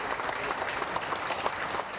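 A crowd applauds at the farewell for Mexican wrestler La Parka, giving a dense, steady wave of clapping that stays fairly loud throughout.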